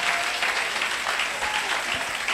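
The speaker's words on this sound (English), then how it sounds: "why don't you give that a better clap?" Church congregation at a gospel service breaking into brisk, steady applause, a short burst of many hands clapping together in a reverberant hall with no voices over it.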